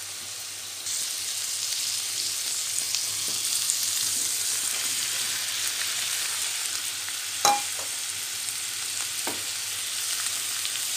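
Pieces of bottle gourd fry in a pan for sambar with a constant bright sizzle, like steady hiss or rain, and a couple of sharp stirring knocks near the middle, close and fairly loud.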